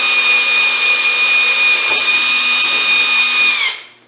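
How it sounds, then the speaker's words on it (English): An electric drill whines steadily and loudly as it enlarges holes in the body of a Triumph Spitfire, running alone for about three and a half seconds before spinning down and stopping. "Punch the hole with the drill bit back through."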